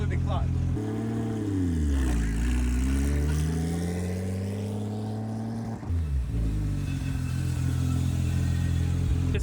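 A Porsche 911 Turbo engine runs loud and near as the car is driven, its pitch climbing and falling through gear changes with a brief dip midway, while people talk over it.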